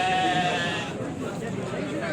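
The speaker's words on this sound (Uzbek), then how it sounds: "Qo'ylar, qaranglar." A sheep bleats once, brief and close, at a busy sheep market, with crowd murmur and someone speaking over the background.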